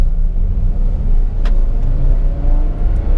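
A Ferrari F12 TDF pulling away gently at about five percent throttle gives a loud, deep engine rumble with a rising harmonic whine and one brief higher burst midway, close and continuous, no voices.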